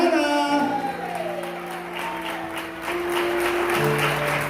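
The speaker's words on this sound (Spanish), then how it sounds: "den un aplauso al Señor esta mañana" A church congregation claps for the Lord during a morning service, a steady broad patter of hands lasting throughout, with sustained organ or keyboard chords ringing underneath and some talk mixed in.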